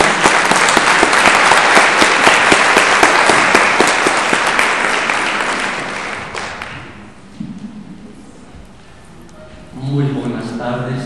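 Loud, dense audience applause for a pastoral theologian fills the room for several seconds, then tapers off; near the end a single voice begins speaking.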